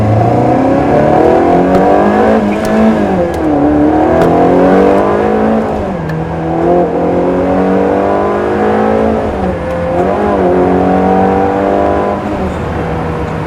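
A Ferrari 360 Challenge Stradale with its sound deadening removed, its engine revving hard and loud up and down through a rising, falling howl, heard close from inside the cabin with no talking over it.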